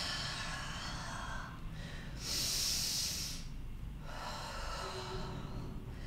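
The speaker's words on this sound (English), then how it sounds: "Deep breaths." Deep, steady breaths drawn in and let out during a mountain meditation and yoga flow, a long hissing exhale standing out near and clear, with no talking.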